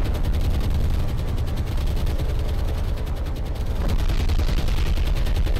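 Sustained anti-aircraft machine gun fire from .303 guns in the naval combat game War on the Sea, a loud, dense, continuous rattle of rapid shots with no pauses.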